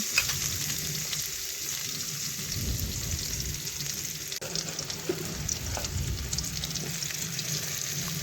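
Potatoes frying in oil for a catla fish curry, a loud dense continuous sizzle with low bubbling and occasional stirring scrapes, close up and alone without any talk.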